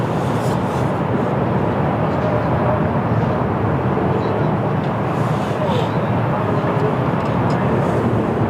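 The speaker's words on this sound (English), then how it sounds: "we have a Lufthansa Airbus A320 Neo Lufthansa" A Lufthansa Airbus A320neo at Lisbon Airport on a windy day makes a loud, steady, broadband engine rumble that holds constant throughout, heavily mixed with wind noise, with faint voices underneath.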